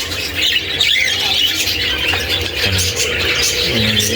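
Loud, constant squawking and squealing from several pet parakeets close by, a dense overlapping chorus with no pauses.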